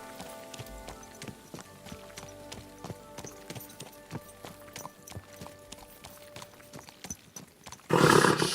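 Horse hooves clip-clop steadily in the medieval video game Kingdom Come Deliverance 2, a close, even run of hoofbeats that ends in a sudden burst of louder noise.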